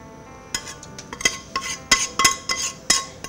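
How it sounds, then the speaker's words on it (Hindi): Mustard-seed tempering is poured into a cooking pot, with a run of sharp metallic clinks and scrapes from the utensils, irregular and close, without talk. "और बाकी जो हमारा बचा हुआ दूसरा ये राई है या तड़का है, हम अपनी इस हांडी में डाल देते हैं"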